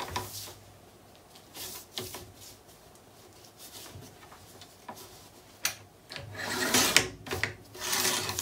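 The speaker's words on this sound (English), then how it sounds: "now I'm just going to trim off that little sliver and just make sure it's square" A paper trimmer cuts a thin sliver off paper for a craft mini album, a soft rasping slide with small ticks and taps, faint and close, ending in a few louder scraping strokes.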